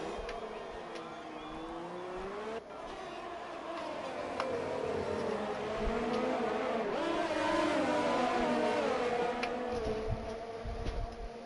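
Several Formula 1 cars in an F1 racing video game at Monaco whine and buzz together, their high engine tones rising and falling in pitch as they battle closely, a loud continuous layered drone.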